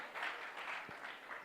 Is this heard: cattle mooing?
no